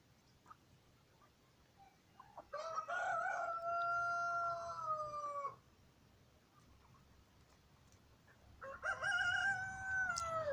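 A black rooster of a rare poultry breed crows twice, each call a long, loud, drawn-out cry with a gap of quiet in between, close to the microphone and with no talking.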